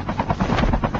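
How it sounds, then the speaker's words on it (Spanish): A helicopter in a battle royale video game makes a loud, close rotor chop with a fast rhythmic thumping pulse throughout the short burst. "Me encanta manejar el helicóptero, bro."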